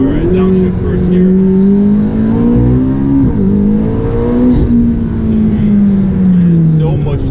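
An ATS GT supercar drops to first gear and accelerates hard, its engine note droning loud and close, sagging and climbing through the revs in one continuous pull.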